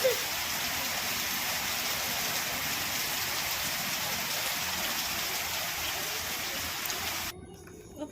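Heavy rain pours in a dense, steady roar that stops abruptly near the end.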